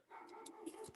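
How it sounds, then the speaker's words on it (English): A single dog bark, fairly faint and somewhat distant, sounding muffled as if from another room. "did she hear my dog barking?"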